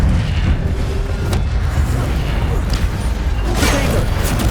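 Spells fire off in quick succession in Hogwarts Legacy, with booming blasts, crackling impacts and whooshing bursts layered loudly and densely, likely mixed with faint voice.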